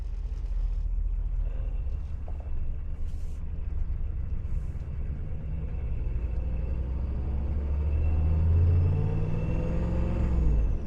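A 6.5 Detroit Diesel fitted with a Holset HX35 turbo runs at light throttle, a low steady rumble with a faint rise in drone toward the end, heard from inside the vehicle.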